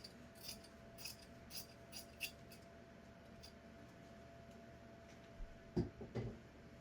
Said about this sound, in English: For the back drape, we will trim away all but about an inch of seam allowance.